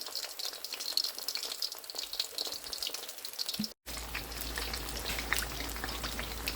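Onion pakoras fry in hot oil, a dense crackling, spattering bubbling that runs steadily close by, with a brief dropout midway before the frying noise resumes.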